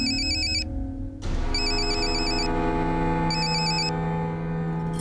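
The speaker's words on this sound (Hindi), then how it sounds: "कोई दिल जले आशिक का फोन आ रहा है आपको" An incoming-call phone ringtone plays loudly and up close in repeated electronic bursts with short pauses between them, over a sustained musical background.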